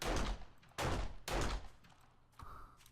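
Gunshots from a weak gun in 7 Days to Die: three sharp booming shots in quick succession, each with a short decaying tail, followed by a softer thud, with no talking.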